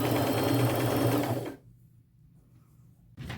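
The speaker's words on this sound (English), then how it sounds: "going to sew it right along that raw edge" A sewing machine whirs loudly and continuously, running a red zigzag stitch along the raw edge of fabric on a patchwork coat made from an old dress, then stops abruptly into near silence before starting up again.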